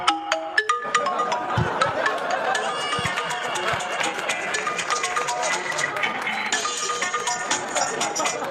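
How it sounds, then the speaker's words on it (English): A novelty smartphone ringtone plays as a busy, tuneful electronic melody with steady rhythmic pulses, heard in a comedy club setting and running continuously for several seconds with some crowd noise underneath. "this is my dad's favorite ringtone"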